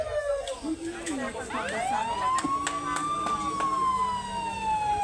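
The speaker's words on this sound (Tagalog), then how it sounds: "Ayun na yung ambulansya natin." An ambulance siren wails and sweeps up and down, fairly close, with the Ferrari ambulance rumbling underneath and some background noise throughout, at a line workers' rodeo emergency response event in Aklan.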